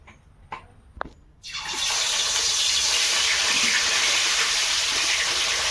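Fish going one by one into hot oil in a wok: a few sharp taps, then a sudden loud, steady hiss of sizzling frying that continues evenly.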